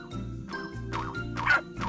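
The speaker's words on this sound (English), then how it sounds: "I think the barks come from another place." Several short dog barks and yips in quick succession, fairly close and alone, with a whimpering, high-pitched quality.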